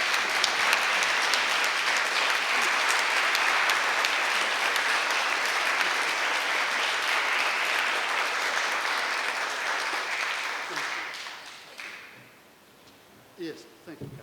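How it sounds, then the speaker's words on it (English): Sustained audience applause following a poetry lecture on Elizabeth Barrett Browning, Emily Brontë and Christina Rossetti, dense and steady for about eleven seconds before fading into a quiet room with a few scattered knocks. "I think we might clap now"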